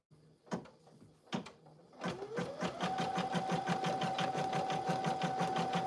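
An embroidery machine stitches an in-the-hoop lip balm holder, starting with a few isolated clicks and thumps, then settling into a rapid, steady mechanical chatter with a whine underneath, close by.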